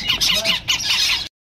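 Grand Eclectus parrot chicks at a bird market give harsh, raspy squawks in quick bursts, close and loud, ending abruptly.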